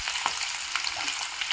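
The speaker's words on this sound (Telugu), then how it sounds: "కరివేపాకు, ఎండుమిర్చి వేసుకున్నాము. ఇవి మరీ మెత్తగా అవసరం లేదు, ఒక 2 సెకండ్స్ వేగితే సరిపోతుంది" Onions, green chillies, curry leaves and dried red chillies frying in hot oil with a cumin and chana dal tempering: a close, continuous hissing sizzle with faint stirring. No voices.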